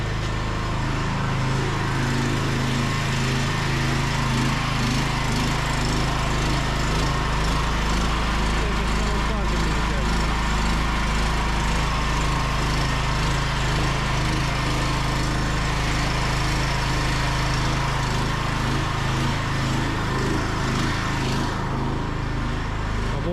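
A petrol generator running continuously to charge Deye inverter batteries, a loud steady engine drone with a constant low hum and buzzing, unchanging throughout and close by.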